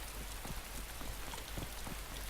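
Steady rainfall in the DayZ survival game, a constant wash of pattering droplets hitting the ground, uniform in level throughout, with no one speaking.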